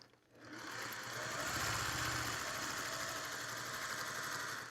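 Sewing machine stitching flying geese quilt blocks, a steady rapid mechanical whirr with fine repeating needle ticks, fairly quiet and close, running without talk.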